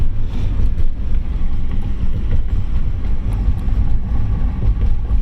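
Steady low engine rumble of a 1992 Honda Accord wagon driving, with a broad rushing noise throughout and no clear knocks standing out.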